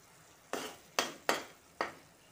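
A spoon stirs curd and liquid into chicken biryani in a pot, four quick, close, wet scraping strokes spaced about half a second apart, each fading fast into quiet.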